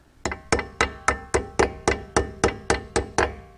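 A small hammer taps brake pad parts into place on a Porsche Macan front brake caliper, eleven sharp, evenly spaced metallic knocks at close range.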